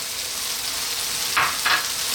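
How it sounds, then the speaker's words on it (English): Mushroom cream tomato pasta sauce is stirred in a pan over a low sizzle, with two short scraping sweeps of the utensil standing out near the end. "we're going to give this a mix"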